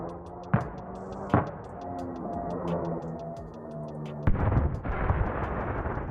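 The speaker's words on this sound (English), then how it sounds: "you'll hear the sound of the helicopter coming down, followed by an explosion" In the video game DayZ, a helicopter comes down: sharp booming impacts and a heavy blast ring out against a steady ticking rhythm and a mechanical rumble, with a louder crashing explosion near the end.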